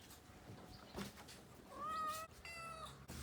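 A cat gives two drawn-out, fairly close meows while being offered homemade organic cat food, thawed from frozen, at feeding time, with a faint rustle before them and no talking.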